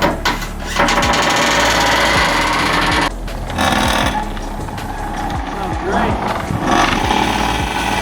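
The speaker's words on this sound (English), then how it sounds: "Oh man, that belt is just rubbing. It's cranking off." Mazda Miata engine cranks roughly and repeatedly with a belt rubbing and squealing, loud, close and grinding, with brief breaks in the cranking.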